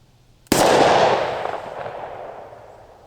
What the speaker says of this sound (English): I'm going to shoot a couple of rounds double action and then the rest single action.